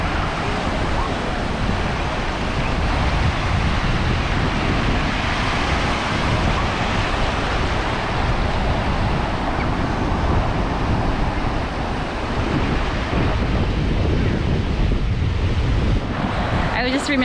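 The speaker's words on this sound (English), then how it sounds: "Look at those waves." Ocean surf at Pensacola Beach, Florida, in the evening: a steady, loud wash of breaking waves with heavy wind buffeting the microphone, continuous for the whole stretch.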